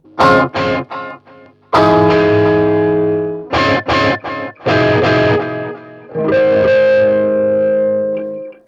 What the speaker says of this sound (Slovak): mať pedalboard, ktorý končí stereo výstupom, kedy používame všetky naše delay a reverby naozaj true stereo